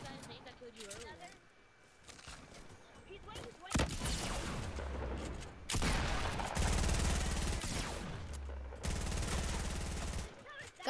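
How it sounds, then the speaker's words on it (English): Bursts of automatic gunfire in a Fortnite match, loud rapid volleys starting a few seconds in and recurring in several long bursts, with a player talking excitedly throughout. "Oh my gosh, I'm getting shot at."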